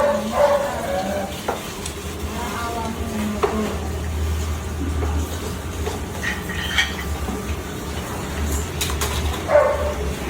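Buldak cheese corn omelette frying in a pan, a steady low sizzle running throughout with scattered stirring and utensil clinks against the cookware.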